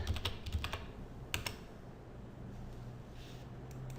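A password is typed on a computer keyboard, a few quick bursts of close key clicks at the start and again midway, then quiet room tone.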